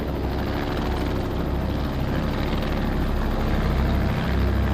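A helicopter drones steadily overhead, its rotor thrum and engine noise continuous and fairly loud throughout, with no voices.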